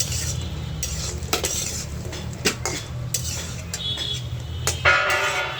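Lentil fritters (dal bora) fry in a pan, a low sizzle under repeated sharp clinks and scrapes of a metal utensil stirring and turning them against the pan.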